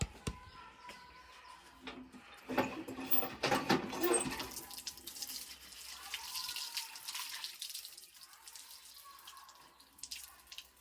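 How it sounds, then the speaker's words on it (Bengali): A cage is rinsed under a running water tap in a village setting, with uneven bursts of splashing and gushing water, while birds chirp faintly in the background. "আমি এখন খাঁচাটা ধুয়ে নেব কলটায়"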